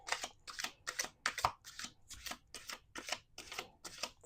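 Tarot cards are shuffled by hands with long fake nails: about ten quick, soft riffling bursts in a steady rhythm, close but faint, with no talking.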